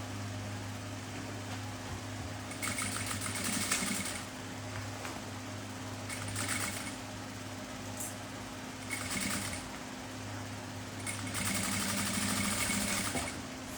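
A sewing machine runs in several bursts while stitching together a necessaire made from a milk carton, with short pauses between stitching runs over a steady low hum.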